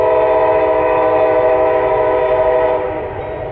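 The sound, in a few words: Norfolk Southern mixed freight train passing with horn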